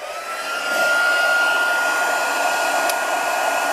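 A heat embossing gun blowing hot air with a steady, loud whirring hiss, starting up and holding constant close by.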